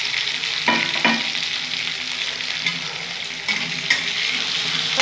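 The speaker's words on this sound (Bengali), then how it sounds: "পেঁয়াজগুলো দিয়ে আমি খুব সুন্দর করে ভেজে নেবো" Onions frying in hot oil over a raised gas flame while a mutton dish is cooked, a loud continuous sizzle broken by a few stirring scrapes and clanks.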